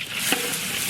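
Fennel seeds sizzle in hot sunflower oil and ghee while chilli chicken and fried rice are being cooked, giving a steady, close frying hiss with a brief stir.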